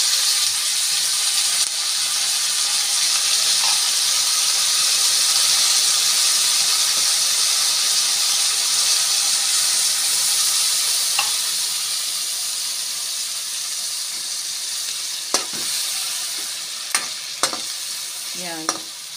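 Beans sizzle and steam loudly and steadily in a pan at close range, then sardines go in, followed by a few sharp clinks and scrapes of stirring near the end, with no voices.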